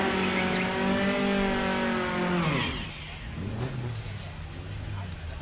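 VW Beetle drag race cars at Mason Dixon Dragway during the 2021 VW Nationals. Loud, rising engine revs climb in pitch, then sweep downward as the cars pass, leaving a lower, rougher engine drone.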